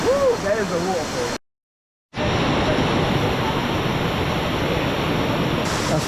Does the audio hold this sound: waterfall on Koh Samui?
yes